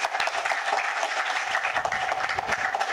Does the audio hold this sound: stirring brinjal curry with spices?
no